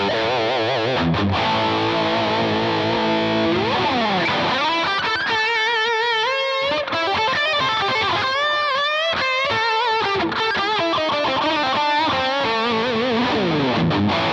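Electric guitar played through a Line 6 Helix preset with reverb, loud and distorted, with sustained chords and then quick melodic runs, each note trailing off in a wide reverb tail.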